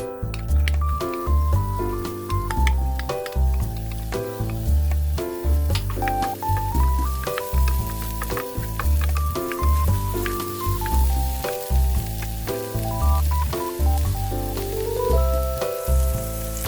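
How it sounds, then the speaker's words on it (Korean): Oil and chopped scallions sizzle in a frying pan for scallion oil in a cup-ramyeon fried rice dish; a steady frying hiss runs under loud, continuous background music. "팬에 기름을 두르고 파기름을 만들어주세요."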